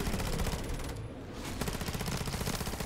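Sustained rapid gunfire in a zombies video game, a dense continuous automatic burst that dips briefly near the middle and then resumes, loud and steady with no talk.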